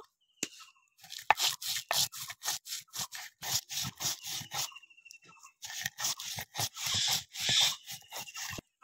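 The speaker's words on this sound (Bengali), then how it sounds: "এবার আমি মশলাগুলো গুঁড়ো করে নেব।" Roasted whole chili, coriander, fennel and cumin being ground into powder, a rapid run of sharp crunching, scraping bursts close up, pausing briefly midway before resuming, with no talking.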